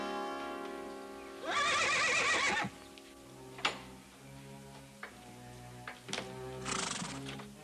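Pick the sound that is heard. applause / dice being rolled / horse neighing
horse neighing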